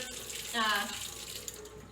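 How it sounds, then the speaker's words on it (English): Grapes being rinsed under a running kitchen tap produce a steady close hiss of flowing water that swells briefly partway through, with a faint spoken voice beneath it. "I will give them a bit more of just of a rinse."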